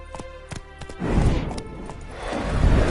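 Horse hooves in a video game, a few sharp clops at first, then heavier thudding and rumbling of hooves in motion that grows louder and closer toward the end.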